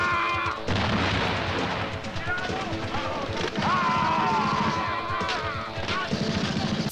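Gunfire from a film shootout at a guerrilla camp, a dense continuous barrage of shots and booms mixed with music and effects, loud and unbroken across the scene with voices partly buried under it.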